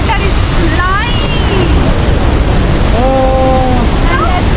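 The American Falls at Niagara Falls roar with flying spray in a loud, constant rush of water and wind buffeting the microphone, while voices speak faintly over it.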